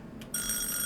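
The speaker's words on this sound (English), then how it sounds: "let's go ahead and make sure the buzzers work" A game show buzzer tested in a quiz setting gives a single steady electronic ring, bright and sustained, starting abruptly after a brief quiet moment.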